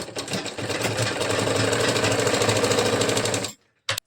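A sewing machine stitching a katori blouse runs in a fast, steady mechanical chatter for about three and a half seconds, then stops abruptly. A brief knock follows in the silence.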